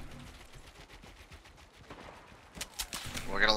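Gunfire in Fortnite during a 2v2 PC tournament match: rapid bursts of shots crackle through, growing louder and denser toward the end, with players talking underneath.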